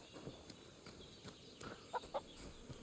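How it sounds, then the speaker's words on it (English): Chickens cluck in the medieval village world of the video game Kingdom Come Deliverance II. A couple of short, faint clucks come near the end over quiet background ambience. "Chickens!"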